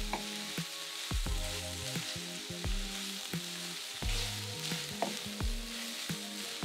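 Shredded cabbage and carrots sizzle in a hot pan with a soft steady frying hiss, punctuated by rhythmic knocks and scrapes of the utensil mixing them, fairly quiet and close.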